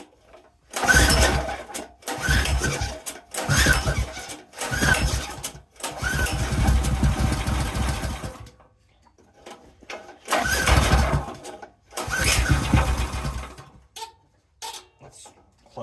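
A Predator 301cc small engine, with rust in the carb bowl and water in the oil, catches and sputters in repeated loud bursts with short gaps, running briefly between pulls.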